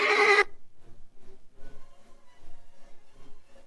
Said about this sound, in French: amenez le cheval.